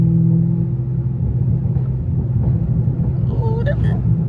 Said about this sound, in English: can you hear the burbles now?